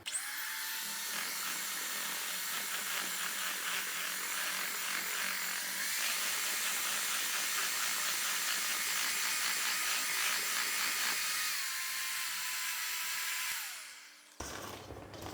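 Steady loud whirr of an electric mixer beating poppyseed cake batter after more flour is added, running continuously for about thirteen seconds before winding down and stopping, with no talking.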